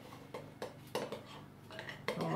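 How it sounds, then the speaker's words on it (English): Clinks and taps of utensils against a bowl as almonds go into a frangipane mixture: a few close, light knocks, fairly quiet, with a soft hint of voice. "in go the almonds into the frangipane"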